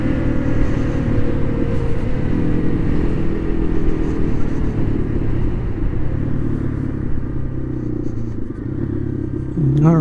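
A 2012 Yamaha XT250 dual-sport motorcycle cruises on the highway, its engine a steady droning hum blended with loud wind rush that holds constant throughout.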